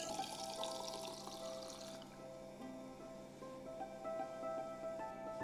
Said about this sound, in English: pour up a little carbonated liquid right there.